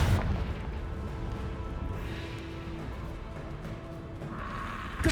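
A Confringo blasting spell going off in the video game Hogwarts Legacy, a sustained rumbling blast with crackling debris that carries on steadily for several seconds, then a sharp fresh burst right at the end.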